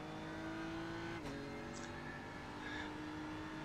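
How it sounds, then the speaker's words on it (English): A BMW GT3 race car runs at the Red Bull Ring in Austria in an iRacing sim race, its engine a steady, faint drone with a brief shift in pitch partway through. "So we are plowing along here at the Red Bull Ring in Austria. With Mountain Trout Racing Concern and the BMW GT3."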